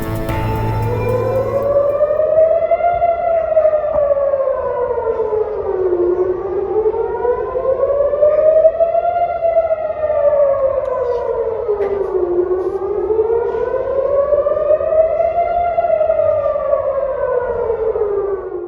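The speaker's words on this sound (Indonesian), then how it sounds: "Roket yang dilancarkan Hamas memicu sirine di Tel Aviv dan kota-kota sekitarnya meraung." Civil defense air raid siren wailing across Tel Aviv during a rocket attack, loud and alone, its tone rising and falling in long slow cycles that repeat about every six seconds.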